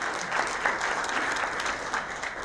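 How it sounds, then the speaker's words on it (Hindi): Seminar audience at a stock market event in Pune applauding, a steady patter of many hands clapping, fairly faint and distant, alone without talk. "एक तालियां जरूर बजाए अपने सबकॉन्शियस माइंड के लिए।"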